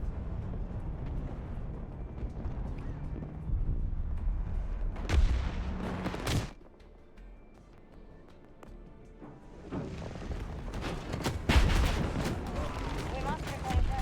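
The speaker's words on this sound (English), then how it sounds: "I hate those stupid turrets." Turret gunfire in a Battlefield 2042 match: dense, booming bursts of heavy fire with rumbling impacts, easing off briefly midway before a fresh barrage of sharp cracks, with a voice talking over parts of it.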